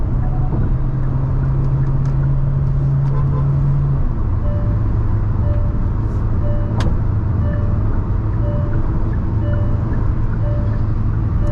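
Hyundai Venue SUV accelerating on an open road at speed, a steady loud engine drone with road and wind noise inside the cabin, a sustained tone shifting slightly lower partway through, no one speaking.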